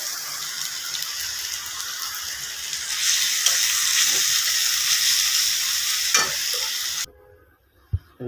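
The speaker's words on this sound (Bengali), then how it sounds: "এই তো মশলা মরিচ পেঁয়াজ আপাতত কষাই নিচ্ছি" Spices, chili and onion sauté in a hot pan with a loud, steady sizzle and occasional stirring scrapes. The sizzle cuts off abruptly near the end, leaving near silence and a couple of soft knocks.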